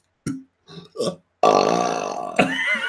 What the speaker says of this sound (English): could do that song with burps